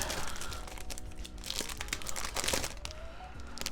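A 1988 Donruss baseball card wax pack wrapper crinkles and crumples steadily as it is torn open, close and moderately loud, with no talking.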